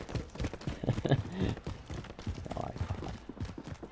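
Rhythmic footsteps in a video game, a steady run of close, fairly loud thudding steps that carries on throughout, with no talking.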